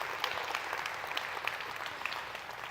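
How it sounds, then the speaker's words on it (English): Audience applauding a keynote speaker at a ten-year commemoration event, a steady round of clapping from a sizable crowd at moderate volume, with individual claps standing out now and then. "Let's give David Schmidt a round of applause."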